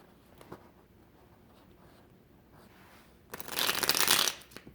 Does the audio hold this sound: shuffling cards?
yes